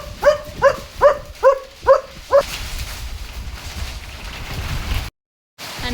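A German Shepherd barks six times in a steady, evenly spaced run, loud and close, as a storm brings winds and heavy rain; after the barking stops, a broad wash of wind and rain noise continues.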